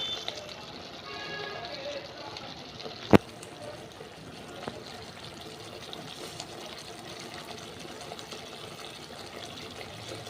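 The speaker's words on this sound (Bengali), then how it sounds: "অল্প কষিয়ে জল দিয়ে দেবো।" Water is poured into a simmering mustard-paste fish curry with pomfret, potato and eggplant, a soft steady trickle under a low cooking hiss, with one sharp knock near the start.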